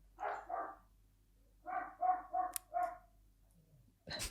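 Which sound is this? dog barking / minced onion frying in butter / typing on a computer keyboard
dog barking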